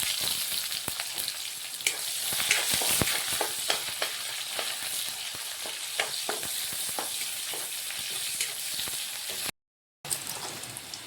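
Onions fry in panch phoron spices, a busy crackling sizzle with frequent sharp pops and spatters close up, broken by a brief silent gap near the end before the frying resumes.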